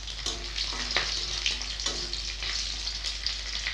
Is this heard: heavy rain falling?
no